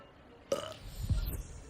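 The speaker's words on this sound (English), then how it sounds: "Did he just burp?" A character in the video game Hogwarts Legacy lets out a single low, gurgling burp after a brief sharp sound, heard alone at moderate volume.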